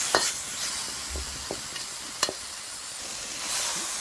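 Fried pork tossed with chili and salt in a hot pan gives a low, steady sizzle, punctuated by a few distinct scrapes and clinks of the spatula, close by and with no voices.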